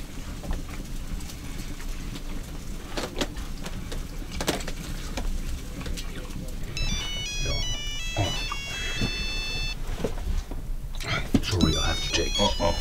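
A mobile phone rings outdoors at sunset beside a campfire in Finland, its bright repeating melodic tone starting partway through and sounding over a steady noisy background with talking.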